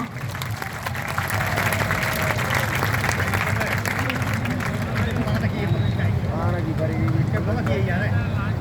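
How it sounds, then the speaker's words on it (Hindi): A crowd at a speech gathering applauds, a dense, sustained clapping that swells after a moment and holds steady, with voices and crowd noise mixed throughout. "उनके लिए तालियां बजवाना चाहूंगा"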